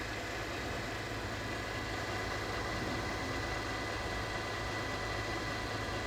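A car engine idles just after a cold morning start, a steady, unbroken mid-to-low hum with a broad hiss layered over it and no pauses or revving.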